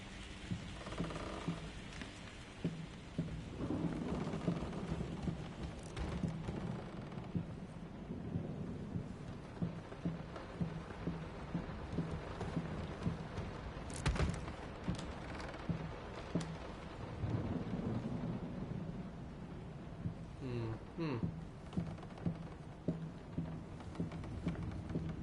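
Steady thunderstorm rain with rolling thunder in the Layers of Fear horror game, a dense continuous downpour with occasional louder rumbles and cracks, no talking.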